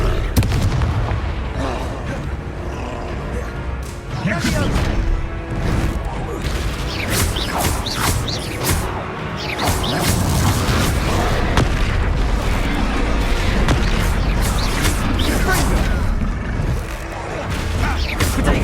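Explosive spell blasts during a boss fight in the Hogwarts Legacy game, heavy booming impacts and crashing debris over a rumbling score, with characters speaking in between.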